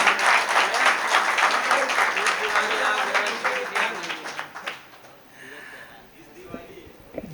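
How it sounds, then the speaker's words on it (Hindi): Audience applause at a Hindi poetry recital (kavi sammelan), dense clapping that swells loud at first and then thins and fades out over several seconds. "एक बार सारे लोग तालियां बजाइए।"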